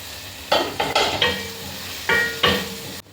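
Chopped tomatoes with ginger garlic paste cooking in an uncovered pan for a chicken egg curry, a soft steady sizzle broken by several scraping stirs and knocks of a spoon, close by with no talking.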